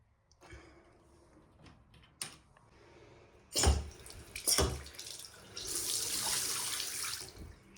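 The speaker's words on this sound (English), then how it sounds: "Water's back on." Water rushes through household pipes and a tap once the supply is turned back on, starting with faint drips and clunks, then sputtering bursts before settling into a steady hiss of running water.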